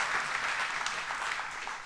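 Congregation applauding for Jesus during a church sermon, a steady wash of many hands clapping at moderate distance, continuous for about two seconds with no voices.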